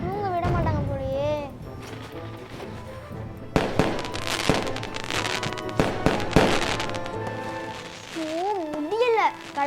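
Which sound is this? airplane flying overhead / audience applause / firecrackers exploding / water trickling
firecrackers exploding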